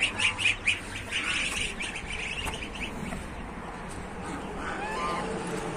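Geese honk and squawk in several loud, close bursts at the start, then continue more faintly amid farmyard background.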